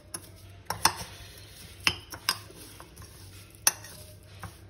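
Papad churi mixed with ghee in a pan, stirred with a spoon that gives sharp, scattered clinks and scrapes against the metal, close and fairly quiet, with a low steady hum beneath.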